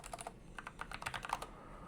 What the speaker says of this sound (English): Okay, so if I type